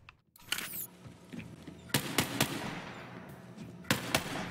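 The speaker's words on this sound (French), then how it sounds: "Si je veux essayer ce fusil pour changer un peu" Rifle gunfire in the Borderlands 3 video game comes as several sharp cracks in small clusters over a low background rumble, fairly close and moderately loud, with no voice over the shots.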